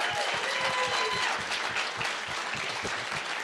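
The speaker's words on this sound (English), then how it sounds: "Let's give a round of applause for all of our finalists." Audience applause at a life sciences pitch night, greeting the startup finalists: a steady, dense wash of clapping from a room full of people that holds for a few seconds, with a faint voice under it.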